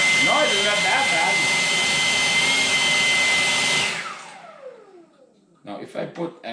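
A PATOOLIO 20V electric leaf blower runs on turbo with a loud, steady, close whine for about four seconds, then spins down and stops while a person talks.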